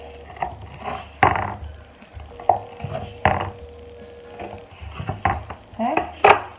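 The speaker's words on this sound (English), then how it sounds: "we're going to start slicing it on the bias" A knife slices on the bias through a cooled pistachio cranberry biscotti log, giving several sharp crunching cuts spaced about a second apart, close and moderately loud, with light board knocks between them.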